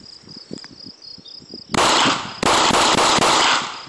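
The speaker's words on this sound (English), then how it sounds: "Some nice things about it is, again, you can shoot it very, very fast." Rapid pistol fire from an FNS 9 outdoors: after a stretch of chirping insects, loud sharp shots come in two dense, fast strings, close and overwhelming the background.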